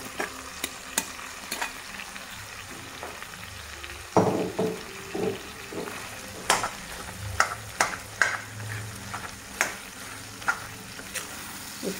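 Boiled fish roe fries in a pan, with a soft, steady sizzle broken by sharp scraping and clinking strokes as a utensil stirs it, growing busier partway through.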